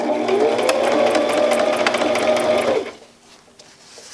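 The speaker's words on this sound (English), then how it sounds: "I'm only stitching on the pocket, and I'm going to do it on the 3/4 line right here" Sewing machine stitching a zippered pocket onto a tote bag with a small stitch, running loud and close in a steady whirring burst for nearly three seconds before stopping abruptly into quiet.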